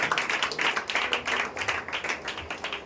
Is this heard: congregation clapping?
yes